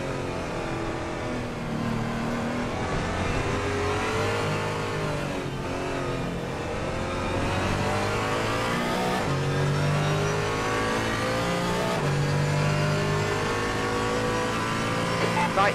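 Race car engines in the video game Assetto Corsa Competizione at the Nurburgring during a multi-class endurance race scream continuously, rising and falling through gear shifts and corners, with brief tire squeal and other cars nearby.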